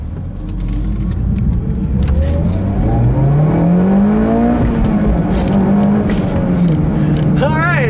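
A 2013 Mitsubishi Lancer Evolution X GSR with a 2-liter turbo accelerates along a back road, engine pitch climbing steadily through the revs from inside the cabin, close and loud, with a brief higher whine near the end.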